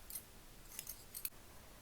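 Scissors snip through crochet yarn in a few quick, faint, crisp cuts close by, with quiet room tone between them.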